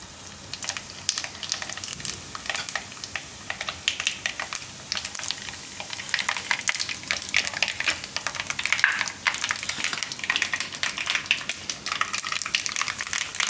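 Mustard seeds and cumin pop and crackle in hot oil and ghee, a dense steady sizzle with rapid sharp spits throughout, close and continuous with no talking.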